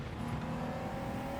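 Steady, sustained engine drone from a Mitsubishi GTO road car racing at Le Mans in Gran Turismo 7, moderately loud and even with no talk.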